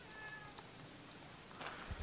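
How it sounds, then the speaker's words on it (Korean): A faint, distant cat meow on Mireuksan mountain in Iksan, South Korea, high and brief, set against quiet background noise. "뭐 고양이 소리가 들리는데?"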